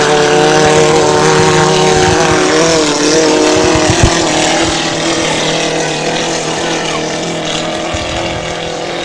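A PowerMist inboard racing boat roars across Belleville Lake on its checkered-flag run, a loud steady engine drone that slowly fades as it passes, with commentators faintly audible underneath.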